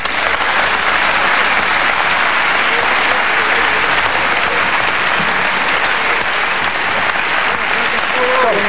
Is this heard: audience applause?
yes